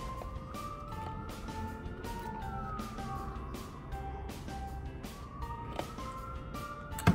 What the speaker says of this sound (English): Here we go again with them sirens